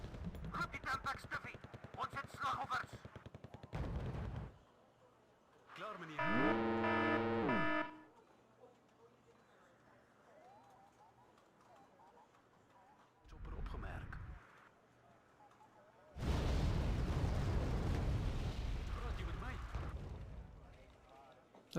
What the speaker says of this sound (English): Stop mortaring me, please.